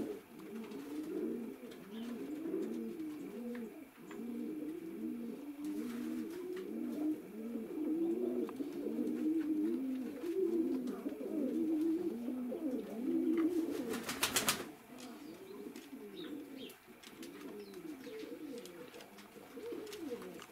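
A flock of about 26 pigeons kept for the winter in the village of Poteryaevka in September coos in a dense, continuous rolling chorus, with a brief flapping clatter partway through.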